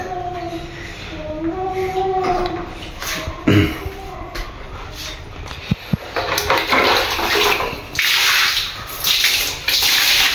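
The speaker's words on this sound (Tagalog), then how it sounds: "Itong shower ay gumagana na din to mga kababayan" A shower running in a house bathroom, water spraying in a bright, fluctuating rush that grows louder and fuller in the second half, with a brief voice-like murmur early on.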